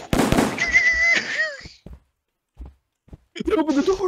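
Fireworks pop and crackle in a Backrooms horror video game: a dense burst of bangs followed by sparse scattered pops, then more crackling near the end, with sustained whistling tones mixed in.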